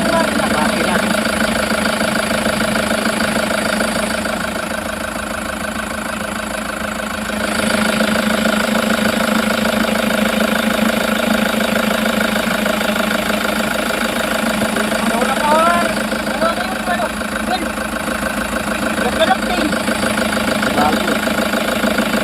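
A Toyota HiAce engine idles steadily after a new auto tensioner was fitted, giving a smooth, even hum with a constant mid-range drone and no squeal, heard up close for a long stretch.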